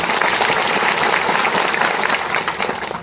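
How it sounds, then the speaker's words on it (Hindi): A dense crowd applauds loudly and steadily at a commemoration gathering in the Kundam area of Jabalpur district, a continuous wash of many hands clapping that tapers slightly at the end. "उनके लिए जोरदार तालियां बजाइए।"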